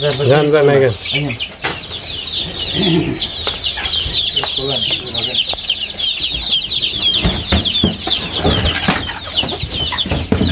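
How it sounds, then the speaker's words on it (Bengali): Tiger chickens, kept alongside adult Egyptian Fayoumi hens, cluck and squawk in a repeated, busy chorus with bursts of wing flapping, fairly close, while a person talks briefly at the start. "টাইগার মুরগি দেখাবো"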